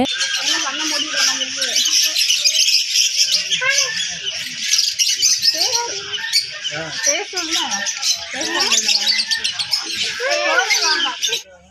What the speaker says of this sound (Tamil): அந்த சரௌண்டிங்ஸ் ஃபுல்லாகவே வந்து பேர்ட் சவுண்டு கேட்டுகிட்டே இருந்தது